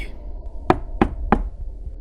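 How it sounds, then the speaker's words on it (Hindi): Three sharp knocks on a floor, evenly spaced and fairly close, each a short hard thud against a quiet low rumble, with no voices. "उसके कमरे की जमीन से खटखट की आवाज आ रही थी"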